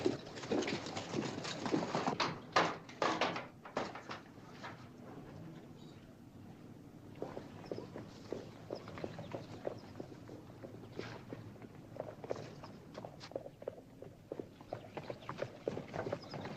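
Horses' hooves clip-clop on a street in a Western film, irregular hoof strikes that are louder and closer at first, then quieter and farther off, with faint background murmur.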